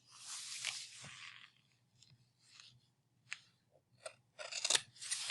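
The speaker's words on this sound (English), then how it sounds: "So you just keep your fabric on the table, keep your scissors flat on the table" Scissors held flat cut fabric on a table in several bursts of crisp slicing, close and fairly quiet, with short pauses between cuts and no talk.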